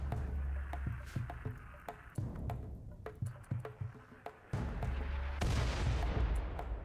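An auto mortar in RimWorld thumps out a string of sharp, irregular shots over several seconds, and a louder, denser burst of impacts follows near the end.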